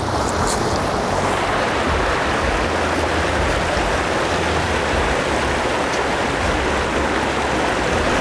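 Water sloshing and swirling with gravel in a gold pan during winter prospecting, a steady close rushing wash that continues without pause.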